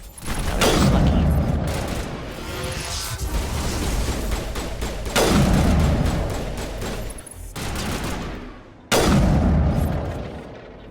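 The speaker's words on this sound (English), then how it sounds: "That is a very loud gunshot" Loud gunfire from the video game Mass Effect, with several heavy, booming shots that crack sharply and ring out over a dense, continuous battle din.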